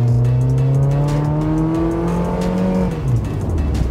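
A Mazda MX-5 Miata accelerates hard, its engine note climbing steadily through a gear before a brief drop at the shift, loud and close with no voices.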